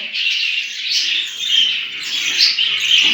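Budgerigars in a breeding cage keep up a dense, continuous chatter of high chirps and warbles, close and fairly loud, with no voices.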